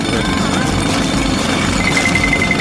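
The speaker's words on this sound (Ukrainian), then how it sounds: "Мені потрібно добре відбити печиво в пилюку. У цьому мені допоможе відбійний молоток." A jackhammer pounds cookies into fine crumbs, a loud, continuous rattling hammer roar running throughout at close range, without pauses.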